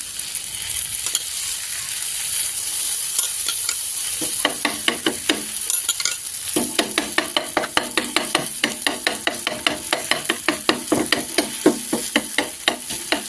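Steady crackling sizzle of pumpkin bhakri flatbread on a hot griddle, with dense rapid pops and scraping clicks throughout; close and fairly loud, no voices.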